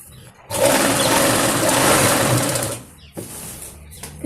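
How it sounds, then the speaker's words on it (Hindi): A sewing machine stitches a Patiala salwar in a steady, whirring run of about two and a half seconds, stops, then starts again for a shorter burst, close and fairly loud. "फिर हम यहाँ से सिलाई लगाएंगे"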